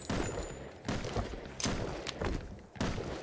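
Gunfire from a player on a watchtower in Rust, shooting at a corpse: a series of loud, sharp shots spaced irregularly across the moment, close and punchy with brief gaps between.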